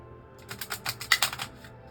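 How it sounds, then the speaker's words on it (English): Tarot cards shuffled by hand in a quick series of crisp, papery riffles and slaps, fairly close and moderately loud, starting after a short quiet moment and continuing in an uneven rhythm with no talking. "So I'm just going to shuffle these cards and see what we can learn more about"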